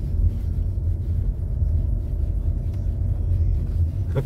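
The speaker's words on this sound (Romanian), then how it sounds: "Auzi motor." A steady low engine rumble that holds throughout, a car idling or rolling nearby with no clear build in loudness.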